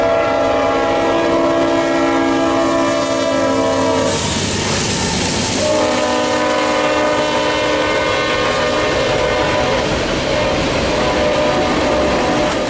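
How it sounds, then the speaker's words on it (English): A northbound Union Pacific freight train passes close and loud, its RS5T horn sounding long sustained chords that break briefly and resume over the constant rumble and clatter of wheels on rail. "a northbound snuck up on us with an RS5T horn"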